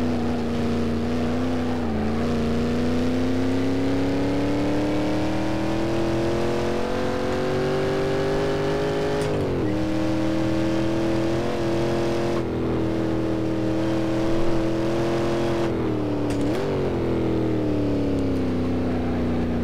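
A Shelby Cobra's engine in the Assetto Corsa racing game, driven on the Nordschleife circuit, revs loud and steady with a rising pitch through long pulls, broken by several quick gear-change dips.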